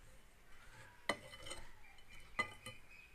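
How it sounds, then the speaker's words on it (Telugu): A spoon stirring spices and salt into grated raw mango pickle in a bowl, with two sharp metallic clinks against the bowl amid soft scraping, all fairly quiet. "వీటన్నిటిని బాగా మిక్స్ చేసుకుందాం"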